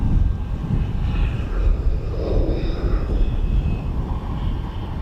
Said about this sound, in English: 787-9 of United Airlines going to Denver